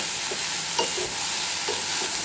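Vegetables for labra being stirred in a pan, a constant hissing sizzle with a few soft spatula scrapes spaced through it, close by.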